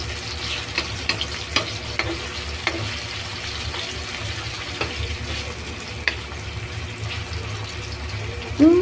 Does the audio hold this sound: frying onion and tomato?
yes